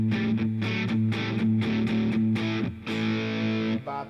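Electric guitar played through a distortion pedal in a drive-stacking rig, a loud, saturated chord riff with rhythmic stabs and sustained notes, heard alone without talk.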